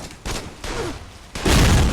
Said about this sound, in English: That was one hell of an explosion.